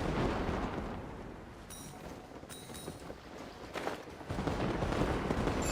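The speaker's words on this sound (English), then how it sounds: "I like how they're doing the fireworks effect and everything all around us" Fireworks effects from a Genshin Impact minigame burst in dense, overlapping crackling booms, loud and close, with a brief lull midway before the barrage resumes at full strength.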